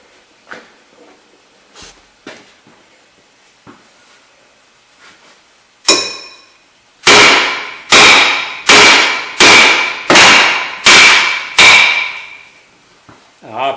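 An old front brake rotor on a 2005 Mitsubishi Galant is hammered from behind: a few light taps, then a run of about seven loud, evenly spaced metallic blows ringing up close.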